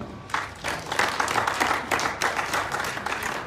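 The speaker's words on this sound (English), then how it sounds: "A round of applause for her." Applause from an audience at a surprise 50th birthday celebration, a dense steady wash of many hands clapping that swells in after a brief pause and holds at moderate loudness throughout.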